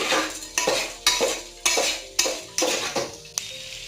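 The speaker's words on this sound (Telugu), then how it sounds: "ఇది కూడా యాడ్ చేసిన తర్వాత ఇంకా అన్నీ ఒకసారి మొత్తం అయితే కలుపుకోవాలి" A spoon stirs frying ingredients for Andhra bagara rice in a pan, with about eight rhythmic scraping strokes over a soft sizzle, close and fairly loud, with no talking.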